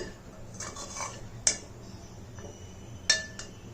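A utensil tosses and mixes millet puttu with milk, grated coconut and butter in a pot off the heat, giving soft scraping and stirring with two sharp metallic clinks against the vessel.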